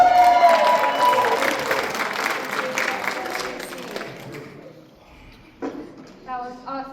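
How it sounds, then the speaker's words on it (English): A church audience breaks into loud, sustained applause with some cheering during a Sunday service, the clapping fading out after about four seconds before a voice speaks. "You hear the people cheering."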